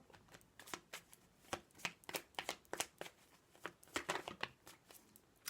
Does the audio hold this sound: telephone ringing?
no